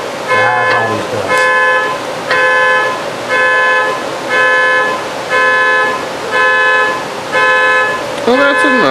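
A car horn or alarm, triggered remotely from a phone, sounds in a transmission rebuild shop. It gives a steady run of repeated, evenly spaced tonal honks that carry through the whole stretch at moderate loudness.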